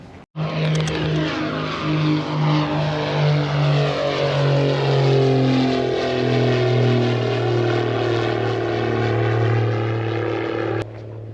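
A propeller plane roars loudly overhead, its engine drone steady and rising in pitch as it passes, then cutting off abruptly.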